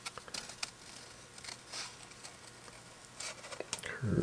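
Scissors snip through paper to cut out an apple shape, giving faint, scattered clicks and rustles in a quiet room.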